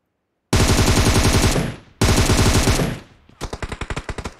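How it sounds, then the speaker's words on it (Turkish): An M762 assault rifle firing in PUBG Mobile: two loud, close sustained automatic bursts of about a second each, then a sharper string of roughly ten distinct rapid shots, with no talk. "Bırak silah atıyorlar ha"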